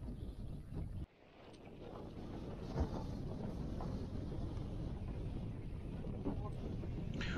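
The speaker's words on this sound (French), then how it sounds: "oui, il y avait beaucoup de vent ce jour-là" Strong gusty wind blows across an open golf course, buffeting the microphone with a loud, continuous low roar after a brief quieter moment at the start.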